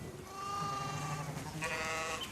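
Domestic sheep bleating in a mountain setting: several overlapping, wavering bleats from a flock, fairly close and steady, with a second, sharper call rising near the end.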